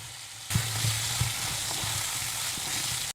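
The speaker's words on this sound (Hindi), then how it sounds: "हाई फ्लेम पे चिकन को अच्छी तरीके से भून ले 2 से 3 मिनट के लिए।" Masala-coated chicken fries on a high flame for Kerala-style chicken roast, a loud, even sizzle that starts abruptly and cuts off near the end, with a few stirring knocks against the pan.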